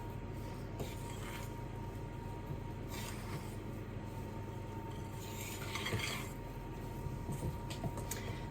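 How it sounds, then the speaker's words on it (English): A stiff make-ahead muffin mix made with banana instead of egg is stirred in a bowl, with soft scraping and knocking as the spoon works against the bowl, close and fairly quiet. "So I'm just going to get all this mixed in nicely together."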